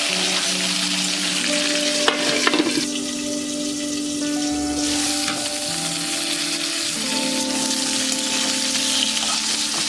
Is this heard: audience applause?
no